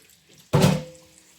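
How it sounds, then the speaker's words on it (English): A sudden gush of tap water pours into a container for under a second, starting abruptly and then trailing off into a softer splash, close and fairly loud. "And I'm gonna refill this with clean water."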